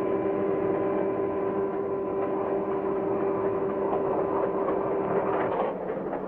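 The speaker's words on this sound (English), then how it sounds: "Freight train number 40 is carefully winding its way through the many tracks that lead out of the freight station" A Santa Fe Railway freight train, number 40, rolls slowly through a freight-yard maze of tracks, giving a steady, loud rumble and hum with faint wheel clatter throughout.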